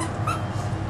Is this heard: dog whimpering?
yes